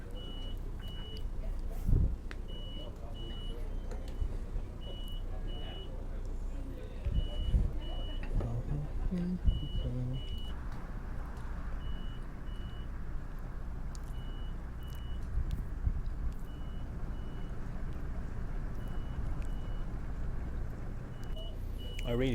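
Steady repeated electronic beeping from a Van Hool A320 bus in the Omsi 2 simulator on a Hamburg route, sounding at even intervals over low engine rumble and road noise, with a change in cabin hum partway through.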